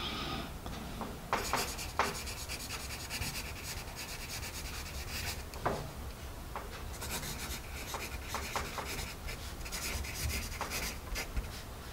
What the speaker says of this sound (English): Relatively smooth writing pencil